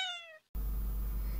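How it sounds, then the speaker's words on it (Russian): A single cat's meow with a clear falling tone, short and fairly close, fading out before a steady low background hum takes over. "Если ты хороший, Ксюнькин, скажи мяу."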